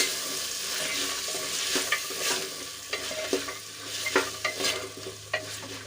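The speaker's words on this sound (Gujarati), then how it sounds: "એની સાથે વટાણા પણ ઉમેરી દઈશું બંને સરસ રીતે મિક્સ કરીને આપણે થોડી વાર સુધી સાંકળવા દઈશું" Potatoes and peas for aloo matar pulao sizzle steadily in a hot pan, with a spatula scraping and clacking in irregular close strokes over the constant frying hiss.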